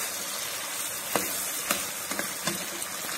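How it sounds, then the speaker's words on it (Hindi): Coarsely crushed garlic, ginger, onion and tomato frying in ghee for kaleji masala, a soft steady sizzle with a few brief sharp crackles and pops, quiet and close. "इनको थोड़ा घी में फ्राई कर लें"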